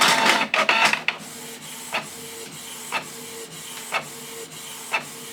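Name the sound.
inkjet printer printing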